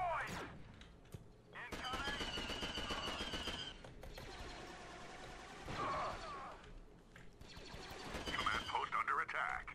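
Clone phase one blaster fire in the video game Star Wars Battlefront 2 crackles in rapid bursts amid battle noise, with someone talking excitedly over the shots.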